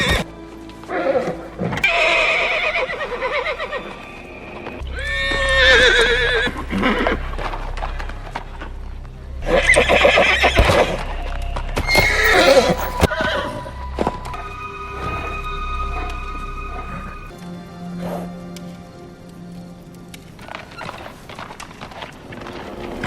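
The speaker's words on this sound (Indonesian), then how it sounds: "Lalu karena kuda di kandang menjadi mengamuk, Cassia pun memintanya" Horses neigh and whinny wildly in a stable, loud agitated calls in several bursts over clip-clopping hooves and restless stamping, with a low rumble underneath.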